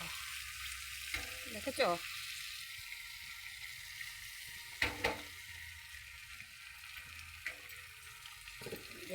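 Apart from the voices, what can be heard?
egg frying in a pan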